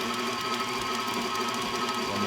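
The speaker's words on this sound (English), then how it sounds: "I switched from a traditional whisk and mixing bowl to a KitchenAid mixer, and I am going to mix this on low" KitchenAid stand mixer running at low speed while mixing organic confetti cake batter, a steady, continuous motor whir with a fast rhythmic flutter, close and unbroken throughout.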